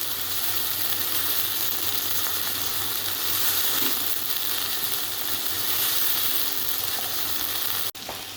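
Potatoes for aloo bhujia frying over high heat, a dense continuous sizzle holding steady and loud, with a few light stirring clicks and a brief dropout just before the end.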